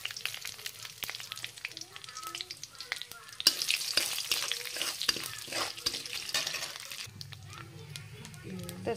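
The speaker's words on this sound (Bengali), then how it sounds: "এবার মাছের তেলে দেয়া দিব কালো জিরা আর তেজপাতা" Black cumin and bay leaves sizzle in hot fish oil left over from frying fish, with stirring clatter and crackling spatter up close. The sizzle rises in a louder burst partway through. A voice speaks over it at times.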